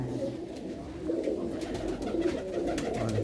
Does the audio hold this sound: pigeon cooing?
yes